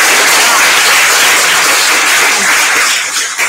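Dense, sustained applause from an audience at a launch event for The Manchester Anthology, loud and close, filling the whole stretch and thinning slightly at the end.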